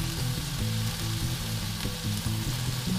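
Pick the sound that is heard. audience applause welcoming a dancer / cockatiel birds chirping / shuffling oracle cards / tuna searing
tuna searing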